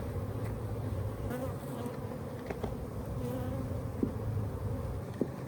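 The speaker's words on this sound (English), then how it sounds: "Bunch of busy bees over here." Bees buzz steadily in an opened beehive, a dense close drone of many insects with a few faint clicks and knocks from the hive frames.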